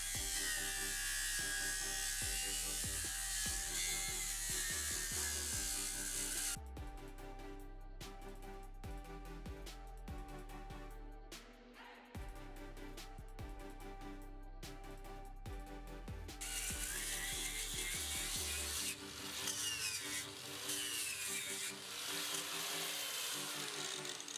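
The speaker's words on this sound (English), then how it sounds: "going in with the angle grinder and sanding resin disc to flatten down the surface" An angle grinder with a sanding resin disc flattens a surface on a container house balcony, running continuously and loudly with a steady high whine and changes in pitch as it bears down, with no talking.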